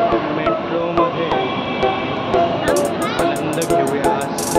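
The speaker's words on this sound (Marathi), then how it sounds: "वनाज कॉर्नरची गाडी आलेली आहे, चला आपण बसूया." A Pune Metro train at Vanaz Corner station, with a loud steady rumble and evenly spaced rail clicks, then a series of high electronic beeps toward the end, under voices.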